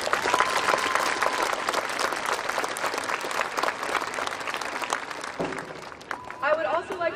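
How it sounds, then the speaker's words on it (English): Loud, sustained applause from a crowd at a high school graduation ceremony, with cheering and voices rising over the clapping, especially toward the end. "Please join me in giving them a round of applause."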